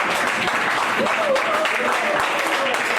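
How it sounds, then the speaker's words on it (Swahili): A church congregation clapping together during a service, a dense continuous patter of many hands filling the room, with voices and a sung or spoken line running faintly over it. "Pigie makofi."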